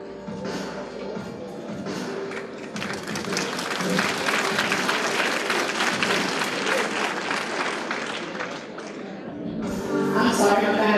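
Guests at a homecoming alumni banquet applauding an honoree, sustained clapping that builds over a voice on the microphone, fades briefly, then swells again at the end.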